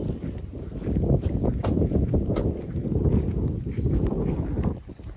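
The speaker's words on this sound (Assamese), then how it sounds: "ইমান ধুনীয়া নেচাৰেল বতাহ" Natural wind by the Brahmaputra river at a riverside resort gusts close against the microphone in a rough, low buffeting rumble that swells and eases for several seconds before fading.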